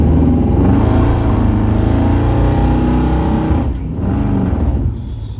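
A loud, close 1957 Chevrolet Nomad engine rumbles and revs steadily, with a brief dip in pitch before roaring on; no voices.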